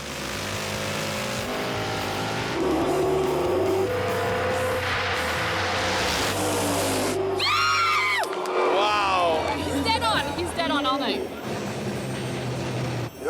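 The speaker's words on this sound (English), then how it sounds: "Doug Kistler's '84 Trans Am racing against Lorenz Adkins' 1980 Camaro" Doug Kistler's 1984 Trans Am and Lorenz Adkins' 1980 Camaro race side by side in a best-of-three hot lap final at Virginia Motorsports Park, engines roaring loud and steady, with a whooping crowd and commentator voices over the noise.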